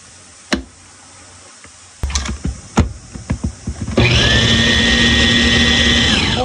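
A few knocks and taps, then a blender motor starts blending melon and runs at a loud, steady whir for the last few seconds.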